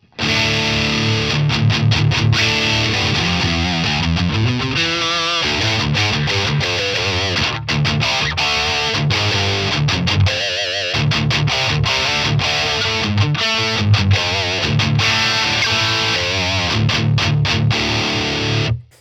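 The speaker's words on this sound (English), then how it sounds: "Now the pedal like a distortion pedal." Heavily distorted electric guitar played through the drive channel of a Jeff Loomis Devil's Triad pedal, a dense, saturated riff that runs continuously for the whole stretch with chugging palm-muted rhythms and brief pauses.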